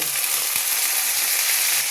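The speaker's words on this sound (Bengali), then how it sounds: "লাউগুলো দিয়ে ভালো করে ভাজবো।" Bottle gourd frying in a hot pan, an even, close sizzle of oil with a light tap or two from a utensil.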